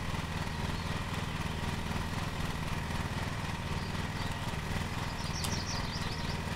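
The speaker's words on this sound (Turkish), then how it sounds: "Çim biçme simülasyonu da yapmışlar." A riding lawn mower engine in the Lawn Mowing Simulator video game drones steadily and loudly throughout, a continuous low rumbling idle with brief faint bird chirps near the end.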